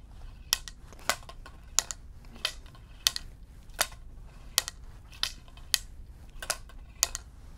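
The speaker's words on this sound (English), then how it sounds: "that ball to hit those metal caps in there and make that clicking sound or that snapping sound." Sharp metallic clicks repeat in a steady rhythm, roughly two every second, crisp and close against a low background hum, as a ball inside a TFO Accelerator fly-casting practice rod strikes metal caps.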